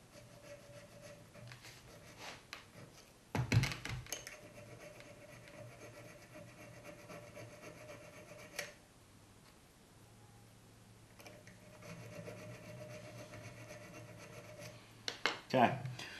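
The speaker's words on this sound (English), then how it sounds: "I'm just going to go in the back here and file that back nub." A metal file rasps steadily against the back nub of a combination square, quiet close-up strokes broken by a few louder knocks and a short pause in the middle.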